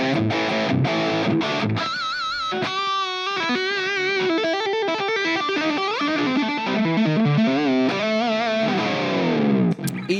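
Electric guitar played through an amp's basic crunch channel, then boosted for a fatter distorted tone, with strummed chords and sustained notes ringing loud and continuous, no talking.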